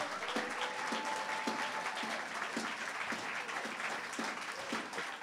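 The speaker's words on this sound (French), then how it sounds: "Joignons nos mains, acclamons cette parole." A church congregation applauds, a steady wash of many hands clapping together in a rhythmic, evenly spaced beat, moderately close and without talk.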